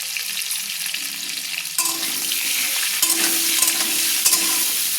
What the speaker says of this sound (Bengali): লবণ হলুদ দিয়ে আমি নেড়ে নিলাম।